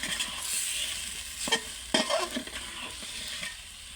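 Sponge gourd being stirred and fried in spice paste in a pan for a hilsa fish curry, a steady close sizzle with several scraping stir strokes.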